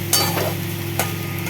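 Half-boiled potatoes with salt and turmeric are stirred in a frying pan, giving a couple of brief scraping strokes over a soft, steady sizzle and hum.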